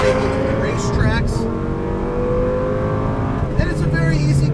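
A 2004 Lamborghini Gallardo engine drones steadily at close range on a racetrack, with a brief rev rising partway through and a faint voice speaking over the motor.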